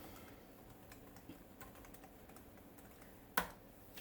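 Quick, light keystrokes on a Lenovo laptop keyboard as a password is typed, a soft run of close taps ending in one sharper click, over a quiet room.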